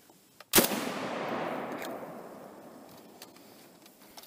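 A single loud shot from a WiseLite Arms semi-auto PKM belt-fed rifle firing 7.62x54R, a sharp close crack followed by a long rolling echo that slowly fades.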